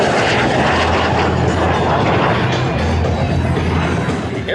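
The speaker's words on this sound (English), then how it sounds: "Here's a high-speed flat pass right down the shoulder." A jet fighter roars past in a loud, sustained high-speed flat pass at an airshow in Abbotsford, its engine noise filling the air throughout.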